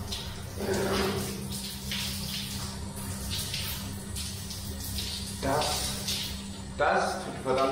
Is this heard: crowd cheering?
no